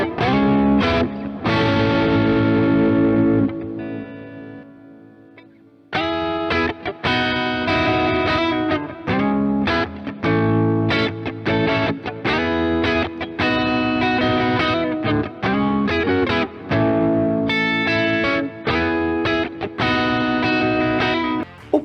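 An electric guitar runs through an equalizer shaped for a Stratocaster-like tone, playing loud, driven chords and riffs with a brief sustained fade before the playing resumes; no voices are heard.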